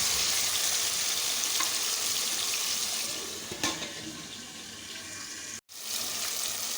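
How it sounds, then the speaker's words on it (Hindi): Tomatoes frying in a covered pot on the stove for a mutton aloo gosht curry, a steady hissing sizzle that stays loud and close throughout, with one brief dip. "टमाटरों को अच्छी तरह से भूनें"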